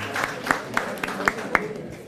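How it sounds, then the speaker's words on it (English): Scattered, fairly faint clapping rises from the audience at a university graduation ceremony, individual claps spaced out in a loose, sparse rhythm. "Let's give him a round of applause and give all of them a round of applause as well"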